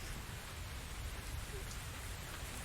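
Steady rain falls in the video game The Invisible Hours, a constant even hiss of drops on surfaces throughout, with no other sound standing out.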